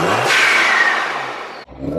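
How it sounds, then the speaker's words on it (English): A supercharged Honda S2000 with a quiet TLQ blow-off valve revs hard and loud for about a second and a half, then cuts sharply, and a brief low engine note returns. "Blow-off valve is TLQ. Apparently, it's a quiet version."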